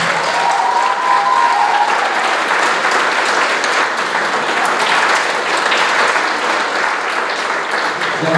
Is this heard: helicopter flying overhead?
no